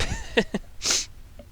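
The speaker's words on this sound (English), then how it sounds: "I think I sneeze" A single sharp sneeze bursts out close to the mic, preceded by a couple of short breathy vocal sounds and followed by a faint trailing noise.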